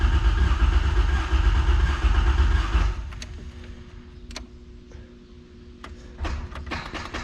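An old vehicle that has sat unused cranks loudly for about three seconds without catching, then stops, leaving a quieter stretch broken by a few clicks and clunks.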